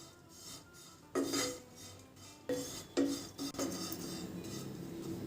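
Coconut powder being dry roasted in a pan for puffed rice laddu, with a utensil scraping and clinking against the metal in irregular bursts, close and moderately loud, with no talking.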